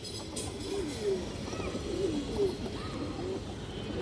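Old-breed red chulli pigeons coo softly in repeated low calls, a pair heard close over a steady background hum.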